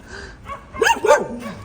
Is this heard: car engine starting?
no